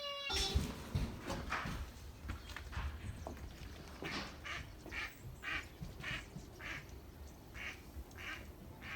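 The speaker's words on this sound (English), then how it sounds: "See those ducks fly out of the pond?" Several ducks quacking in a series of calls at moderate distance as they fly up out of a pond, with a flurry of movement at the start and faint outdoor background noise.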